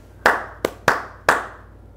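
Four close, sharp hand claps mark the rhythm of a Latin meter, spaced unevenly with a slight pause before the last, with no voices.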